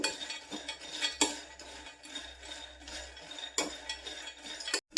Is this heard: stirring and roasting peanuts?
yes